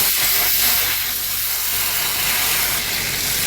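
Butter hitting hot dissolved sugar caramel in a pan, a loud continuous sizzling hiss of steam, broad and steady throughout, close with no talk.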